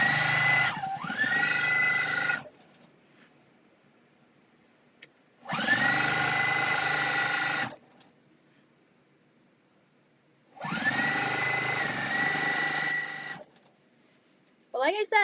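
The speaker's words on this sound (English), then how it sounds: "This needs to be sanded down." Three long bursts of a power sander working a part of a Legit Kit Goldfinch model aircraft kit, each running about two seconds with quiet gaps between, loud and close.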